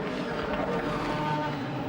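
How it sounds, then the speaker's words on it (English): A DTM V8 race car engine at full throttle during a 2008 touring car race, a dense, buzzing roar held steadily for a couple of seconds with no speech. "The V8 cars sounding absolutely magnificent."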